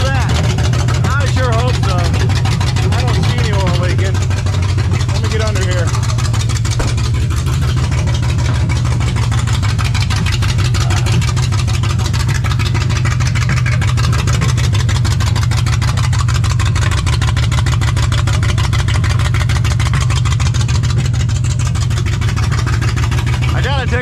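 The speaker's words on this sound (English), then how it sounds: "Pretty low idle, not bad, but I think 800 is probably better for this manual transmission." Idling engine of a 1982 Ford F-150 pickup with a manual transmission, set at a low idle; a steady, loud low rumble runs throughout with a person talking over it.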